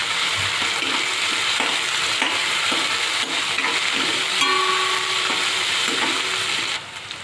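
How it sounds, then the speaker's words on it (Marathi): Chili, garlic and ginger sauté in a hot pan for an Indian potato rassa gravy bhaji, giving a steady close sizzle broken by repeated scraping stirs and a brief clink near the end. "त्याला पण छान परतून घेऊ."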